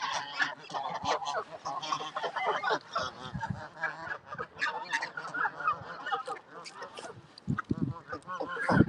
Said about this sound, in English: We'll have to stay over this side then, where the noisy birds are.